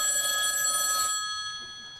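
An old-style telephone bell rings with a bright, sustained metallic trill that fades out toward the end, heard in a TV studio setting with no one speaking over it.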